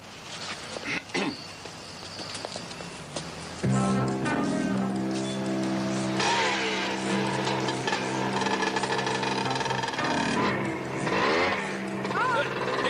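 A motorcycle engine starts up and runs loud and steady with revving surges after a few seconds of quieter sound, while people talk.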